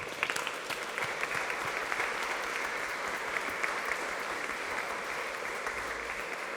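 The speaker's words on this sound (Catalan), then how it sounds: "Un aplaudiment per tots ells." Steady audience applause at a Christmas concert in Barberà del Vallès, a dense wash of many hands clapping at even volume throughout with no voices standing out.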